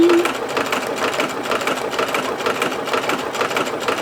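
A sewing machine runs steadily at speed, a dense rapid whirring and clatter that continues without pause throughout.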